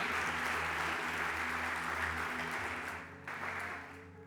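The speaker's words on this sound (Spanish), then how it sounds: "Aplauda la gloria de Dios esta mañana." A church congregation applauds during a Sunday morning Spanish-language service, a broad wash of clapping over a low sustained organ-like tone that dips briefly near the end and then resumes.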